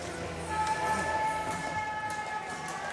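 A fan's air horn blares at a junior hockey game between Kelowna and the Sunshine Coast Blues, a steady held tone over arena crowd noise, loud and sustained for most of the moment.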